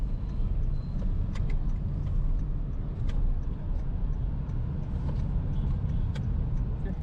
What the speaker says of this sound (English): It's Saturday evening and the traffic is really high.